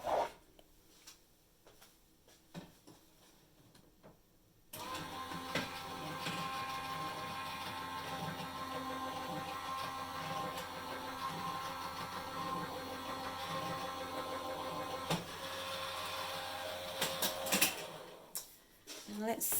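A Go Press foil machine runs metal dies through for foiling, a steady mechanical whirring drone. It starts after a few quiet seconds, holds for about thirteen seconds, then stops.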